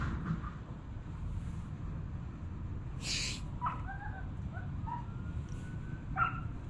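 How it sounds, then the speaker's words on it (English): A neighbouring dog barks a few times at a distance, faint short yaps scattered through a quiet outdoor background with no talking. "The neighbor dog is going off."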